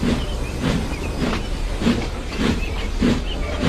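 A branch line train in Thomas and Friends rolls steadily along the rails with a rhythmic clickety-clack of wheels over joints, a continuous rumble and hiss underneath.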